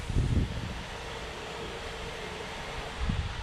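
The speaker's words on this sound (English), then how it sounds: "Oh, it's really windy." Strong outdoor wind buffets the microphone during a test flight of a custom-built FPV quadcopter, a steady broadband rush with heavier low gusts near the start and end; no talking.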